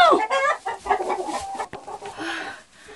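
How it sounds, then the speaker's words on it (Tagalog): Farm chickens and roosters break into an agitated commotion, with a close flurry of loud clucks and squawks that fades into scattered calls, and a person's voice is faintly mixed in. "Nagkagulo ang aking mga manok."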